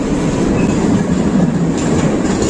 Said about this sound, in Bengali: এই দেখো ট্রেন চলে এসেছে